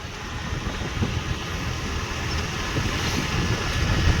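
Honda Activa scooter riding along a road near Nadiyad, a steady low engine drone mixed with heavy wind rush across the microphone, continuous and fairly loud throughout.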